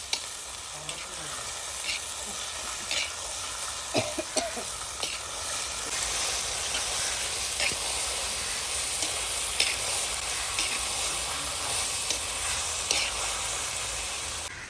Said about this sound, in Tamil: நல்ல சிக்கனை வெங்காயம் வரமிளகா பூண்டோட நல்லா பிரட்டுன்னு நல்லா பிரட்டிக்கோங்க.